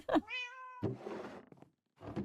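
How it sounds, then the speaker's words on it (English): A single Minecraft cat meows once, a short clear tonal call up close, followed by a few soft thuds and quiet game noises. "Cat noise intensifies."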